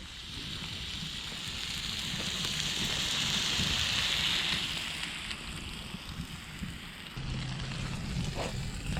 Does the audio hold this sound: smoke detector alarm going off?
no